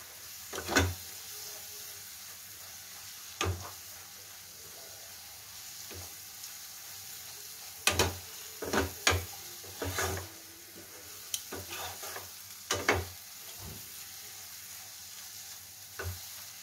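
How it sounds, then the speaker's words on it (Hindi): Masala mixed with a spoonful of gram flour fries in oil in a pan for a pea and paneer curry gravy, with a steady close sizzle broken by repeated scraping stirs of a spoon, no talking. "और ये एक चम्मच बेसन है, इसे भी हम इसी में डाल देते हैं। इससे ग्रेवी गाढ़ा बनेगा, इसी में साथ में फ्राई होगा।"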